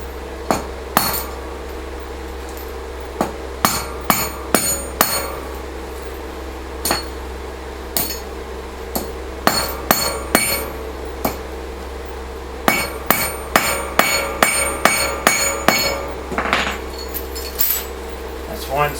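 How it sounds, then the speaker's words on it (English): Metal hammer blows on used chain links while making homemade tire chains: sharp, ringing clinks come in irregular clusters of quick strikes with pauses between, close and loud over a steady low hum. "put it in the 4th one, smash it down."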